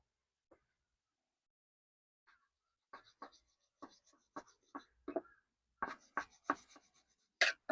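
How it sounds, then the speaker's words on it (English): Dyneema rope being cut off after splicing an eye, a series of sharp, close snipping and scraping strokes that grow more frequent and louder toward the end, with no talking. "And I'm going to cut this off."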